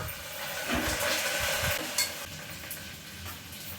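Curry leaves sizzle in hot oil for a fried amaranth leaf dish, giving a steady, close hiss with the faint scrape of stirring over it.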